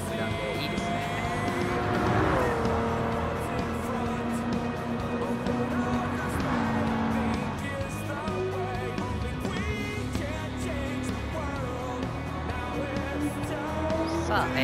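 A tuned Toyota GR Supra races around a grand prix circuit in Gran Turismo 7, its engine whining and rising and falling through gear changes under steady commentary in Japanese.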